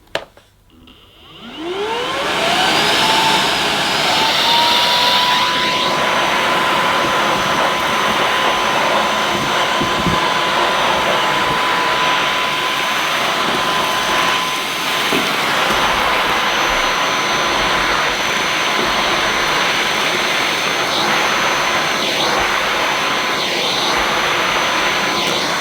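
An AEG FX9 cordless vacuum cleaner with a nozzle attached spins up from a brief click into a loud, steady high-pitched whine that runs without a break.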